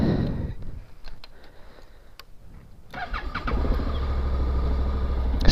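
A 2012 Honda NC700X DCT motorcycle cranks with a brief starter whir, pauses, then catches and settles into a steady, close idle rumble that holds to the end.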